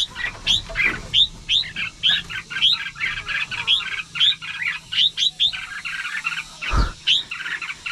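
Red-whiskered bulbul chicks chirp from their nest in quick, close, repeated high squeaky calls that come in a steady rapid series, with one brief soft thump late on.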